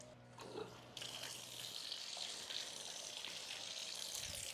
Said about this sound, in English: So let's run some water through it and show you how it works.